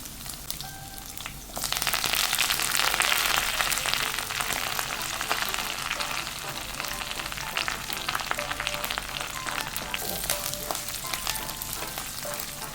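Chopped coconut pieces, curry leaves and green chilies drop into hot oil for a Kerala-style chicken fry, a quieter simmer jumping into a loud, dense crackling sizzle that continues steadily with occasional stirring scrapes.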